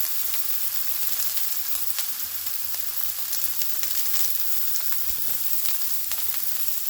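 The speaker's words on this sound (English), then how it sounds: "in this pan, we are going to put some butter and some minced garlic" Butter and minced garlic sizzling steadily in a pan, a close, even frying hiss with faint crackles throughout and no voices.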